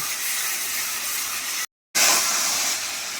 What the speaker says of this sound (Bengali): আর এখানে হচ্ছে মাংসের মশলাটা কষা হচ্ছে।